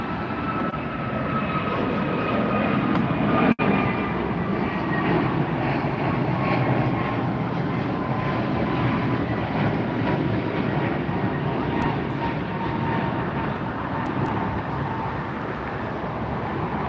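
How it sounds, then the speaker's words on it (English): A Boeing 777-300ER, just arrived from Tokyo, taxis at Los Angeles International Airport with a steady, broad jet-engine roar and faint falling whine, heard from a moderate distance and sustained throughout, with no talking. "that's the 777 you're looking at, 300 ER, just got in from Tokyo"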